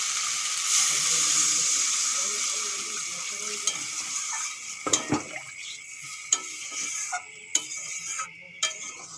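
Water goes into potatoes and spice mix frying in a pan for a fish and potato curry, setting off a loud rushing hiss that settles into a quieter simmer broken by scattered utensil clinks and scrapes.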